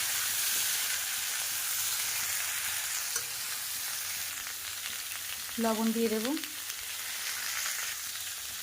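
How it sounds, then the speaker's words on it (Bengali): Steady, loud sizzling of potato and papaya frying in hot oil throughout, with a short spoken phrase in Bengali briefly heard over the hiss. "আলু আর পেঁপেটাকে খুব ভালোভাবে তেলের মধ্যে প্রথমে ভাজা করে নেব"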